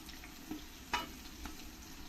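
Onion frying in a pan for an okra dish over high flame, a faint, low sizzle with a couple of soft stirring clicks, no talk.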